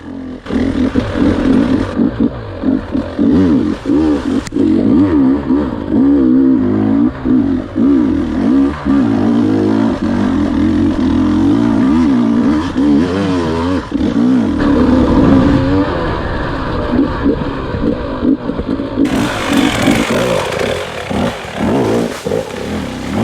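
A hard enduro dirt bike racing a Bad Medicine Hard Enduro pro lap holds a loud, close engine that revs, strains and bogs steadily the whole way, rising and falling with throttle blips.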